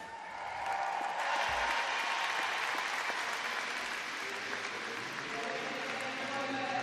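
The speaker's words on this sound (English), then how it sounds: "Cheers there for the last athlete finishing." Crowd cheering and applauding at an indoor arena triathlon finish in London, a loud, sustained wash of claps and cheers that swells after the first second and holds steady throughout.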